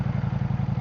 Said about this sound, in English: Gran Turismo engine with the 170 or 180 horsepower.